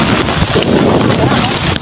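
Heavy rain pours at Tabon Cave in Quezon, Palawan, a steady dense hiss with gusty roaring washes, loud and close, while a voice speaks over it.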